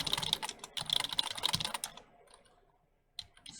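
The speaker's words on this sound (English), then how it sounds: "Type up your email or your message." A computer keyboard clatters with quick bursts of close key presses, pauses, and then a few more taps as a message is typed.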